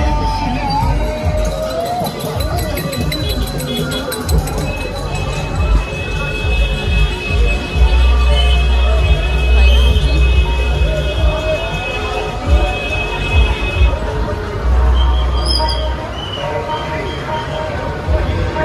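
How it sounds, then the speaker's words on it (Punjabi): A crowd gathers along the street during a Sikh Nagar Kirtan procession amid heavy traffic, a continuous loud hubbub of many voices with rumbling vehicles and a sustained whistle-like tone, heard close by throughout. "ਭੀੜ ਬਹੁਤ ਹੈ ਇੱਧਰ ਦੀ ਤਾਂ।"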